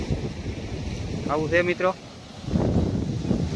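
Sea waves wash against the shore, heard as a low, rolling rush under heavy wind buffeting the microphone, with a swell building toward the end; someone speaks briefly over it.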